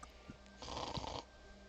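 One snore from a sleeping man, a faint, rough rasp lasting about half a second, with near silence before and after.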